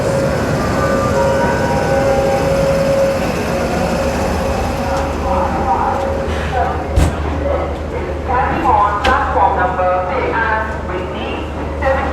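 The Garib Rath Express 12909 departs Bandra Terminus with a steady loud rumble of rolling stock, tonal whine and brief clanks and squeals later on, as voices chatter nearby.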